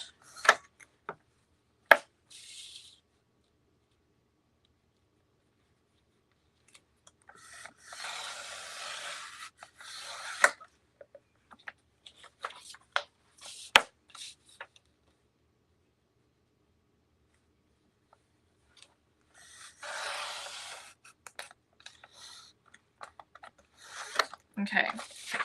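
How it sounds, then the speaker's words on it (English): Scissors cut out a botanical craft paper design, with two long stretches of close, steady rasping paper cuts separated by scattered clicks and handling noises. "All right, so I'm gonna cut this one out."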